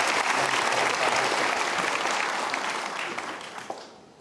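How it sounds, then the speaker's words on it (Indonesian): Audience applause at a Mario Teguh Golden Ways seminar: dense, sustained clapping from a large indoor crowd, loud and steady, then thinning out and fading over the last second. "tadi belum tepuk tangan"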